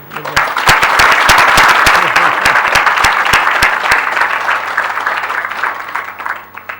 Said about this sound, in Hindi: ताली बजाने की है।